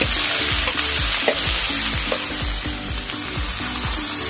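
Sweet puran, a ground lentil filling with sugar, being stirred and fried in a pan with a tempering, giving a steady loud sizzle with repeated scraping strokes of the spoon throughout.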